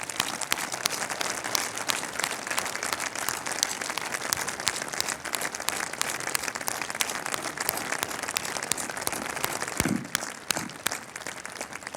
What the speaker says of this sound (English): let us give a very warm applause to Jio and Team Jio on this occasion